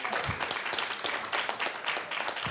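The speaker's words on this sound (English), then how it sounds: "let's give them a round of applause" Audience applause at a Carson city council meeting, a short burst of scattered clapping from the chamber, fairly soft and steady with no one speaking over it.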